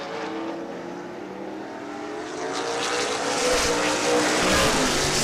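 Late model sportsman stock cars roar around an oval track in a 30-lap feature, a steady engine drone that swells louder as the pack passes close by, with no voices.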